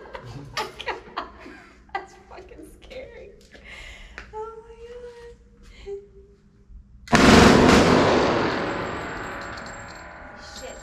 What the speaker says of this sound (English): The fastest shooting full auto we have in the store.